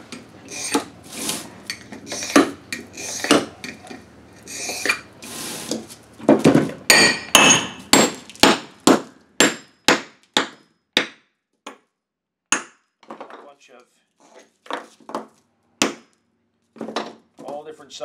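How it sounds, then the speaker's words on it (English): A hammer repeatedly whacks scored glass, breaking it into chunks: a string of sharp, close cracks and clinks, dense at first and then spaced out, with brittle shards tinkling afterward. "Nice way is to, after I've scored it, just whack it with a hammer."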